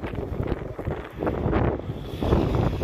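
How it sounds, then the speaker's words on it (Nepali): Strong mountain wind buffets the microphone on a road near Jomsom, a steady roaring rush with gusts that swell louder toward the end, with no talk. "हावा यति फास्ट छ कि भान्जाको बाइकै ढल हो क्या हावा एकदम बवाल"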